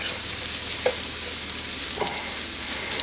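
Three garlic cloves sizzling loudly in a pan for creamy mushroom pasta, a dense continuous hiss close by, with a couple of faint utensil clicks from stirring and no voices.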